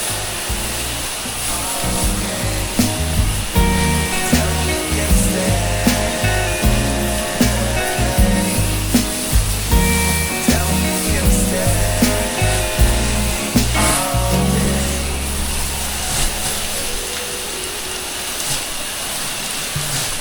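Water sprays in a steady hiss, punctuated by rhythmic pulsing bursts, likely a pressure washer rinsing a stucco house wall, then settles into a continuous rush near the end.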